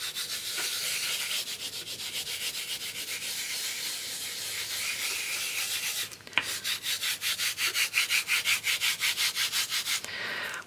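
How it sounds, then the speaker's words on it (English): Fingertips rub glitter into a sheet of polymer clay in small circular motions, a steady close rhythmic scratchy rasp of repeated strokes that runs throughout, with one brief knock midway and slightly faster strokes afterward. "start to rub in little circular motions across the clay so that the glitter sits"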